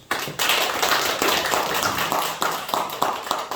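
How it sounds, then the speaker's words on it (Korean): A church congregation claps together during Sunday worship, a dense run of hand claps filling the space at steady loudness, with faint rhythmic accents. "영광의 박수"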